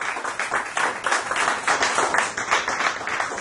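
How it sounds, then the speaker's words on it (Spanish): A church congregation applauds during an afternoon service, steady close clapping from many hands continuing evenly throughout. "Vamos a darle un aplauso al Señor en esta tarde."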